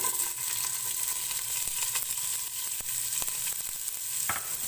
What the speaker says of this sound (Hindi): प्याज को गोल्डन ब्राउन होने तक फ्राई करेंगे।